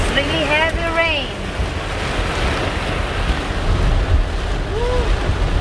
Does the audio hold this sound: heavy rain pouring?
yes